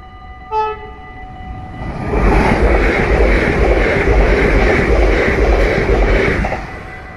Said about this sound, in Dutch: zoals jullie zien komt daar de SNG aangereden